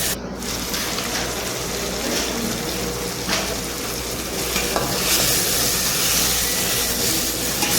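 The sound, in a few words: chicken being stirred with spices in pan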